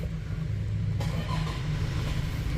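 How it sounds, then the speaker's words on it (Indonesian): A Toyota GranAce diesel engine turns over and settles into a smooth, steady low idle with a constant rumble, heard close and alone with no talking. "tekan engine start button di sebelah kiri sini untuk menyalakan mesinnya"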